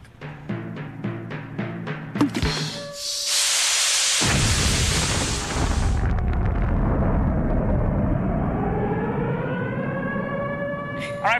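Some 150 bottles of Diet Coke erupt with 1,000 Mentos in a huge fizzing blast: a loud rushing hiss swells abruptly and roars steadily for several seconds while siren-like rising tones and other noises sound beneath and after it.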